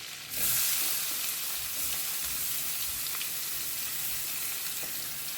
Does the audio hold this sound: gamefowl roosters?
no